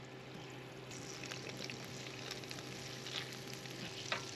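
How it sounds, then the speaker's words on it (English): Butter sizzles in olive oil in a non-stick pan with leftover pork chop bits, a steady close hiss with soft crackles and occasional scraping from stirring. "We're going to stir the butter into the olive oil and scrape up the pork chop bits."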